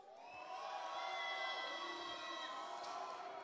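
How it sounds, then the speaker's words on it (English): An esports audience at a Gears of War pro circuit event in Mexico City cheers and whoops for the Denial team, a sustained, fairly distant crowd roar that swells and holds. "Let's give a round of applause to Denial."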